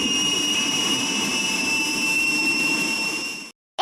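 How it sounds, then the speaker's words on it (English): An aeroplane jet engine roars and whines steadily and loudly, with a high tonal whine over broad rumbling noise, ending in an abrupt cut to silence. "A is for aeroplane."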